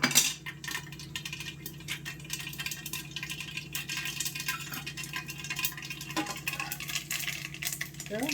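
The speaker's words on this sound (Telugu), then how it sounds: "ఆవాలు ఎగిరిపోయి మూత పెట్టేద్దాం" Mustard seeds spluttering in hot oil under a lid: a steady stream of faint, irregular crackles and light clinks that keeps going throughout.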